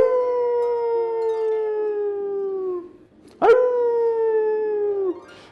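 A human voice imitates a dog howling: two long, drawn-out howls that slowly fall in pitch, loud and close, separated by a short sharp yelp-like break.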